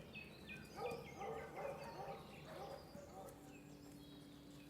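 Hunting dogs bark repeatedly during a royal boar hunt in a fantasy drama, a pack yapping at middle distance with birds and faint hoofbeats, under people talking.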